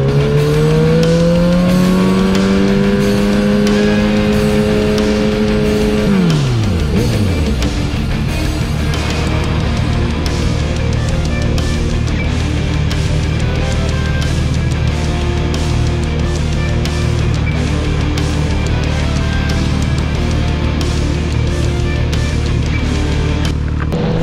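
A drag racing car makes its run, its engine roaring loud and steady throughout. An early high whine drops sharply partway through, then a dense, sustained mechanical roar carries on to the end.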